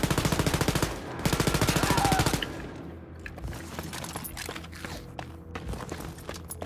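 Automatic weapons fire in Wolfenstein: Youngblood rattles in loud rapid bursts, then drops to a busier background of scattered shots and movement.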